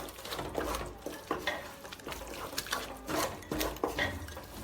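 Beef curry masala with a pinch of sugar being stirred in a pan for Kerala pothu curry, a spoon scraping and clinking against the metal in irregular strokes over a soft sizzle, close and moderately loud with no talking.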